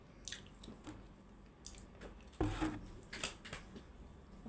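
Close, quiet eating sounds during a mukbang: soft wet squishing and chewing with small bites and clicks. A louder crunchy burst comes midway, then more chewing continues, and nobody speaks.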